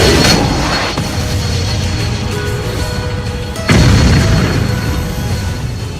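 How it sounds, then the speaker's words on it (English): A deep boom lands at about one second, then a second, louder blast hits midway and rumbles on amid a steady roar, a steam explosion from rainwater heated suddenly. "the steam pressure caused an explosion."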